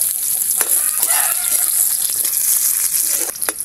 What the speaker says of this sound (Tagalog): Gigisa muna natin yung ating patas